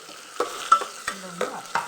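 Curry leaves, green chilli and onion frying in a pan, with a few sharp stirring scrapes and bursts of sizzle spaced across a short stretch, close and moderately loud.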